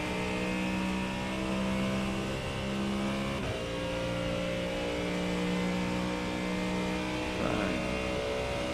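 Continuous engine drone of a Mustang GT3 race car in iRacing, lapping the Circuit of the Americas, a steady mid-pitch hum holding throughout with a brief shift around the middle and a subtle blip near the end.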